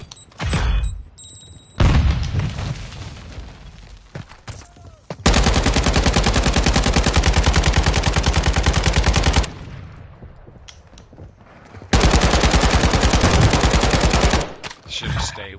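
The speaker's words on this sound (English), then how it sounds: "You are taking effective fire." Video game combat with heavy automatic gunfire: long, loud, sustained machine-gun bursts alternating with brief pauses and distant shots, a radio-style voice heard faintly between bursts.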